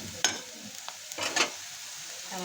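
Peanuts and onion frying in a pan for Maharashtrian pithala, with a steady sizzle broken by a few sharp bursts of stirring and spattering, close and fairly loud.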